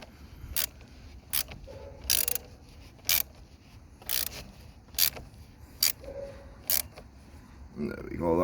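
Ratcheting clicks from a wrench tightening the battery terminal clamp on a VW Golf MK7, sounding in short, evenly spaced bursts about once a second, close and fairly crisp over a quiet background, with a brief voice near the end.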